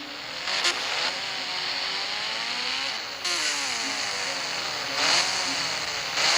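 A motorbike being ridden, its engine droning loudly with the pitch sweeping up and down as it speeds and eases off, with brief surges and no voices.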